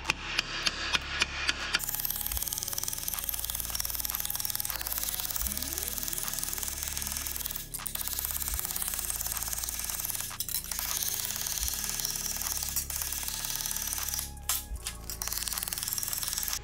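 Rapid, steady hammering with a loose hammer shapes sheet metal over a shrinking stump and dolly, a dense run of close metallic taps over a constant background hum.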